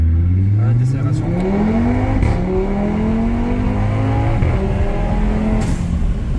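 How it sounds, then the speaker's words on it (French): Tuned Audi RS3 with ABT upgrades and an open-vented forged dump valve revs hard up close, its engine note rising and falling over a steady roar, with a possible intake whoosh as the throttle lifts and voices faintly under it. "pour justement entendre le souffle à la décélération"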